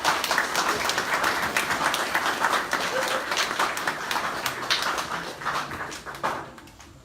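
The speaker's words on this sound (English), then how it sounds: "Yes, let's give her a round of applause." Guests at a Sunday wedding reception give a round of applause, a sustained crowd of clapping with scattered voices that fades out near the end.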